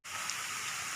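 Steady broadband rush of falling water at Pha Luang waterfall in Ubon Ratchathani, a continuous near roar that fills the whole second without a break or any voices.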